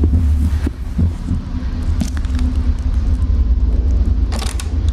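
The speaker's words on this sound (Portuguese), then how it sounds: "Vocês ouviram o batimento cardíaco do coração, né?" In the horror video game Song of Horror, a heartbeat thuds in a steady, deep, throbbing rhythm over a low hum, loud and close, with a few brief brighter noises on top.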